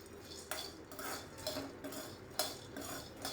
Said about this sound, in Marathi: मी ते थोडेसे परतून घेते कढई गरम असल्या कारणामुळे